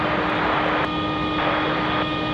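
An airplane taking off from runway 5 left at Raleigh-Durham International gives a steady, moderately distant engine roar with a faint whine, continuous and unbroken by voices.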